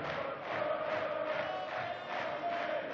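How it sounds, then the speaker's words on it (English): At a European Tour darts semi-final, a large arena crowd sings together in a steady, far-off roar of massed voices that holds a sustained chant throughout. "The crowd getting a sing-song going."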